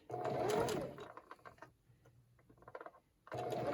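A sewing machine stitches the edge of a Christmas table runner under the presser foot in quick rattling bursts. It stops briefly between runs and starts again loudly at the end, with no voices.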